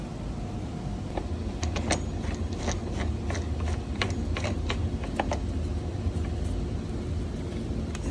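Clamp knobs being loosened on a clamshell-style Stay Right pool filter, heard as scattered close clicks and ratcheting taps over a steady noisy outdoor background.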